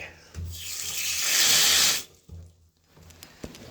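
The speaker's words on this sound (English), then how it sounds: "let's see if we get any water out of the pressure tank" Water rushes out of a tap fed by a faulty home well pressure tank, a loud hissing spray for about two seconds that cuts off abruptly, with faint knocks and handling noises around it.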